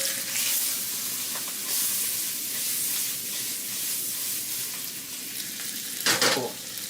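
Carrots, mushrooms and other vegetables stir-fry in a pan for yakisoba, giving a continuous close sizzle with occasional louder bursts of hissing and scraping as the food is stirred.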